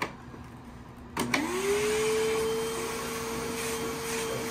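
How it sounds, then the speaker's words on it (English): An Aerus Lux Legacy vacuum cleaner switches on with a click and whirs up to a steady whine, running close by, with faint knocks as its upholstery tool moves over furniture. "so you can vacuum the furniture up."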